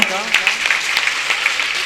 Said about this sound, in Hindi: पहले तो बहुत बहुत तालियां बजाकर स्वागत करेंगे इनका।